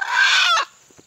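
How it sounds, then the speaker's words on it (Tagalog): A wild junglefowl caught in a trap gives a loud, close, strained squawking call lasting about half a second, followed by faint short clucks. "Manok ihalas guys."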